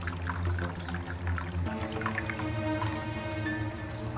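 Tea or juice being poured into a glass, a soft trickling and dripping stream of liquid with a gently rising fill tone, close and moderately quiet.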